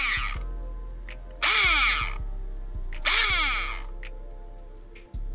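An electric airsoft gun motor, fitted in the motor grip and engaging the gearbox of an Echo 1 Stag-15, whirs in two short bursts, each winding up sharply and then spinning down. The whine is close and loud, with a low hum between the bursts.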